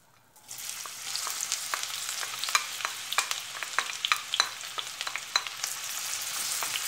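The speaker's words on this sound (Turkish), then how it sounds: "Şimdi ısınan yağımıza soğanlarımızı ilave edeceğiz." Steady frying sizzle of onions in hot oil for menemen, with crackles and pops throughout, close by and fairly loud, with no talking.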